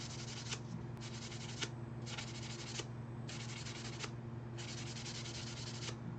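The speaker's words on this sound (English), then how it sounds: "I am sanding on my Jesta's base." Sanding the base of a Master Grade Gundam Jesta model kit, a steady dry scratchy rubbing in repeated strokes with brief pauses, close and fairly loud, with no talk.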